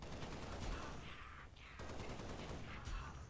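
Rapid assault rifle fire in the game Spartan Assault, steady crackling bursts that run almost nonstop at low volume, with brief gaps and no talking.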